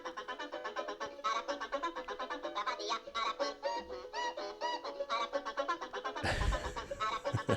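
The Aracuan bird from a Disney cartoon sings its peculiar song: a fast, busy run of bright, chirping, warbling notes that ends in a sudden loud, harsh burst.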